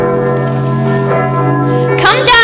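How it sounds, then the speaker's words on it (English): A church bell rings with a long, sustained resonant tone, and a shout cuts in near the end. "Stop ringing me bell!"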